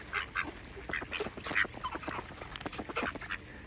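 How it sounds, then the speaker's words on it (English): Mallard ducks quack repeatedly in a busy, overlapping chorus, the raspy calls coming in quick irregular bursts at close range with no talking. "Getting your green heads, mallard friends. Cute ducks."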